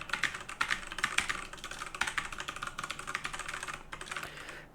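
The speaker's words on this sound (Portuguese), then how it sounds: "Esse é o barulho que ele pega do teclado" Rapid typing on a computer keyboard, picked up close by a Coibeu WKMC-RM800 microphone, with dense uneven clicks of keys continuing steadily for several seconds and no talking.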